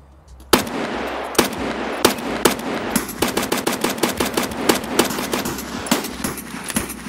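Loud, close automatic gunfire in a multiplayer shooter game, with single shots giving way to rapid sustained bursts of rattling fire.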